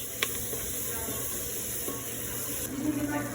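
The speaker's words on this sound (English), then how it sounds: "we've let that simmer for a little bit, and now we're gonna add these sausage" Sausage simmering and sizzling in a pan while being stirred, a steady close hiss with occasional scrapes and clinks of the utensil.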